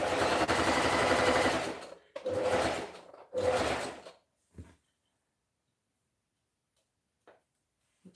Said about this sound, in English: so I'm going to carefully stitch this up